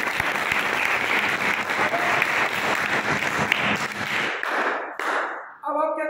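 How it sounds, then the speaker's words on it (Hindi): A group of children clap their hands together in a classroom science activity, a busy, close, fairly loud patter that holds steady for several seconds, then drops off abruptly and is followed by a brief voice. "बजाइए तालियां।"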